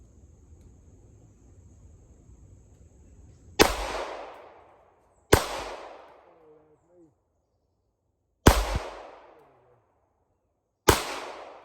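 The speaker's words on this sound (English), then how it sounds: "I'm gonna go 5 rounds left-handed at the left target, 5 rounds right-handed at the right target, and then shoot some steel" Four sharp, loud shots from a Star 30 M surplus pistol fired at targets, spaced a second or more apart with short ringing decays, after a quiet stretch of faint background noise.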